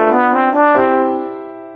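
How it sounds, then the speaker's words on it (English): A single trombone note from a Mickey Mouse Clubhouse children's video game, a brief bright brassy tone with a slight slide that fades out, heard alone. "A trombone sounds like this."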